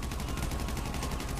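Rapid gunfire from GTA V Online fills the whole stretch, a dense, continuous burst of shots with no pause, loud and close.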